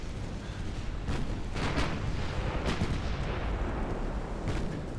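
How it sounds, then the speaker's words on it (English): A torpedo hit in a naval warfare video game, from a French dreadnought campaign, erupts as a loud, rumbling explosion with several heavy booming bursts over a sustained roar. "Torpedo hit."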